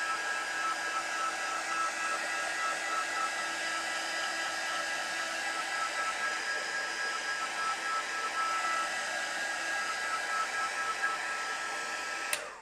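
A handheld dryer blows air over a photo transfer print, making a constant loud whooshing hum that runs steadily and ends with a click as it shuts off.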